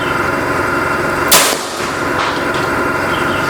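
A single sharp shot from a Predator OD 38 air rifle, at about 1,016 FPS, cracks out, close and loud, over a steady background hiss, then fades quickly.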